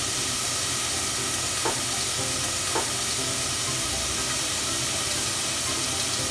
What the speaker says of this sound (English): while the onion is cooking, we want to add our spices now